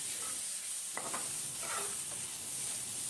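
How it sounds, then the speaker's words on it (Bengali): Blended long beans and spices are stirred in a pan. A faint, steady sizzling hiss carries a few soft scraping strokes near the middle. "বরবটি খুব ভালো করে আমি মিশিয়ে নিচ্ছি যাতে সমানভাবে মিশে যায়"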